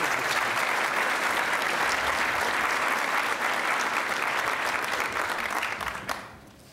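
A lecture-hall audience breaks into sustained, dense applause welcoming Neil Eggleston, assistant to the president, steady and loud before tapering off near the end.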